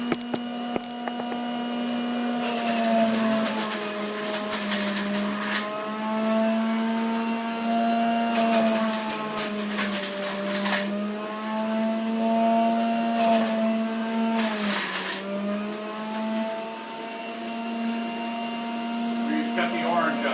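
An electric juicer runs continuously with a loud steady motor whine as broccoli is fed into it. The pitch dips briefly several times under load, and bursts of grinding and crunching come through. No voice is heard.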